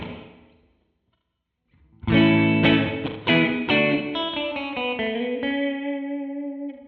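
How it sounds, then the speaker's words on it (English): A Death by Audio Destroyer series stereo pedal puts a picked guitar through echo and reverb at high settings, a few loud struck notes followed by fast, closely spaced repeats that smear into a sustained, washy tail. "I'm going to turn both of the echo controls also to 9"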